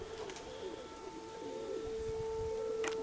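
Pigeons coo softly in a loft, with low, rolling calls under a steady background tone and a faint rustle near the end.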